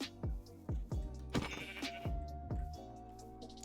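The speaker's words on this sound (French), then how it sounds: "Là, il y a un mouton." Sheep in the Minecraft video game bleat several times in a row, clear and close, with short gaps between the calls.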